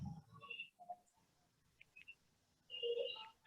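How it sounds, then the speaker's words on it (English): An electronic doorbell rings in a home, giving a few short, faint, high tonal beeps in separate bursts against a quiet room. "Somebody's ringing my bell, so I can't hear much."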